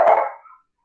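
A single short dog bark sounds close by in an indoor home setting, one loud burst that quickly fades to silence.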